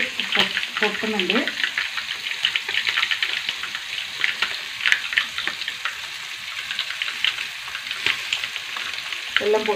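Hot oil crackles and pops as mustard seeds burst in a pan for kootu curry, a close, busy frying sizzle with sharp little snaps, with a brief faint voice-like sound near the start.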